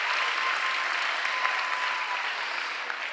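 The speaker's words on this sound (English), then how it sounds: "Give him a round of applause." Sustained applause from a large audience at a city government State of the City address in Philadelphia, a steady dense wash of clapping held at even loudness for about three seconds with no speech over it.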